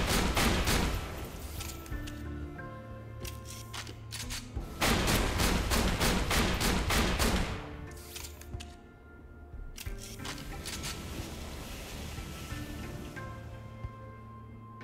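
Video-game gunfire from a Borderlands 2 weapon with burn elemental damage: dense rapid-fire bursts of shots crack out in several volleys, separated by short gaps of quieter ringing and crackle.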